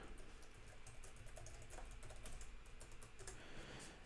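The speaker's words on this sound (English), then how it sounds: "and then type in the password" A password is typed on a computer keyboard in a run of quick, light clicking keystrokes, faint and close, with no voices.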